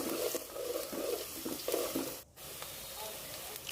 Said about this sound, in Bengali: এরপর নেড়ে দিব